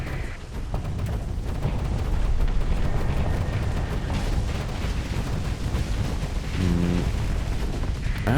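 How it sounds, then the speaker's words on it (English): A dense barrage of rapid weapon fire and impacts from a space battle in Starsector, with constant crackling bursts and booms over a low rumble and a short tonal chime late on, with no talk. "That's a lot of bullets."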